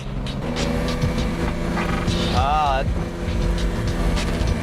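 Lamborghini LM002 SUV engine drones steadily from inside the cabin while driving, a low continuous rumble with a brief whining tone midway and faint voices underneath.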